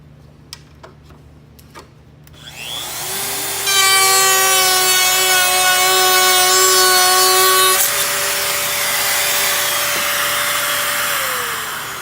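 A Festool router with a tapered bit cuts a wooden tenon, the motor spinning up to a loud, steady high whine with strong tonal harmonics, then running on as the cut continues, after a few light clicks at the start.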